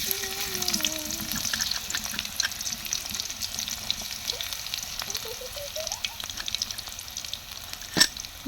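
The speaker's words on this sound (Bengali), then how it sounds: "তেলটা গরম হয়ে গেছে, এখন দিয়ে দেবে পেঁয়াজ" Onions frying in hot oil, a steady hissing sizzle with scattered pops and stirring scrapes, close by, with faint voice-like tones early on and a sharp clatter near the end.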